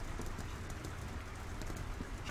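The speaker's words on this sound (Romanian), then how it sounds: "Mamă, ce plouă afară." Heavy rain falling outside a house in the horror game Devotion, a dense steady hiss with scattered patters, moderately loud and unbroken.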